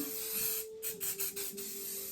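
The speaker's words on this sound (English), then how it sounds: "once I've done my pin curls, I just spray a bit of hairspray on them" Bristow's Extra Hold hairspray mists onto pin curls in a few short, soft, close hissing bursts under a faint steady hum, quiet and brief.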